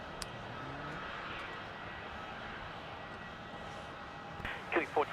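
A fixed-wing aircraft at Melbourne Airport gives off a steady, broad engine roar at a distance, with a short burst of radio chatter near the end.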